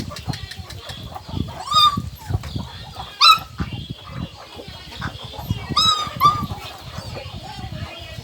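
A dog whimpers and yelps in short bursts amid chickens clucking and farmyard bustle, with occasional voices nearby.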